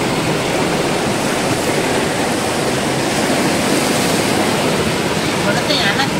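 Floodwater rushes through the streets of Junagadh during heavy rain, a loud, unbroken roar of water that holds steady throughout.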